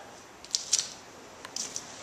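Pruning shears snipping back frost-damaged plumeria leaves in a garden, several crisp close clicks in quick succession, two clustered snips and then a few more, with no talking.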